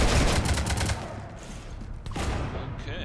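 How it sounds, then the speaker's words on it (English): Rapid bursts of gunfire from the video game Mass Effect 3 as a ship is shot up, loud and dense at first, then thinning into scattered shots and a sharp crack near the end. "You want to stop shooting up my ship?"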